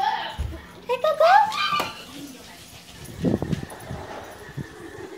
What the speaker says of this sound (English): Meet my new dog